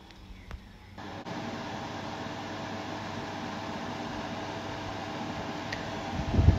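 A steady broadband whoosh of an electric fan running on high, constant and fairly close, starting after a brief quieter moment.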